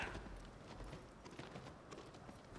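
Horse hooves clip-clopping at a gallop in the Shadow of the Colossus video game, a continuous rhythmic run of hoofbeats over wind-like background noise, no talking.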